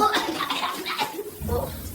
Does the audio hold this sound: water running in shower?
yes